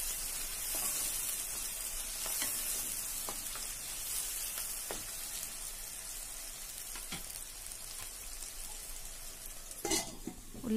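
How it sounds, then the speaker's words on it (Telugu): Onions fry in a pan for a chicken fry, a bright continuous hiss and crackle close up, with occasional soft scrapes and clinks of a stirring spoon against the pan. "బాగా కలుపుకోవాలి. బ్రౌన్ కలర్ వచ్చేంత వరకు కలుపుతూనే ఉండాలి."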